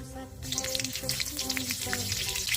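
Loud, dense sizzling of green chillies dropped into hot oil with cumin and mustard seeds, crackling continuously up close, with a faint tonal hum underneath.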